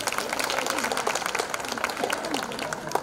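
An audience clapping at a live anniversary music event for the Sur Sadhana group, a steady wash of applause filling the short moment, moderately distant and even throughout.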